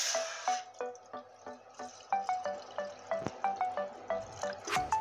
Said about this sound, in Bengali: তার জন্য জল দিয়ে দিচ্ছি।